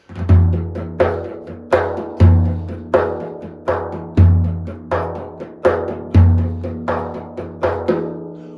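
A hand drum plays a steady, repeating Malfuf rhythm of deep resonant bass strokes and sharper slaps, loud and close with no voices.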